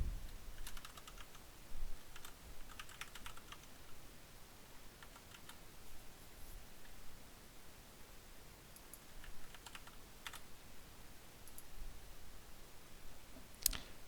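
Soft, close keystrokes tap irregularly on a computer keyboard as a password is typed, with small pauses between quick bursts and a few sharper clicks.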